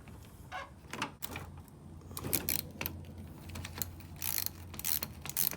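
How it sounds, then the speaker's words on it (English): A 10mm socket ratchet loosens the negative battery terminal on a 2001–2005 Honda Civic, making a few close, brief clicking and metallic rattling bursts with light handling noise in between. "10mm socket, and we're gonna go ahead and disconnect the battery first on the terminals."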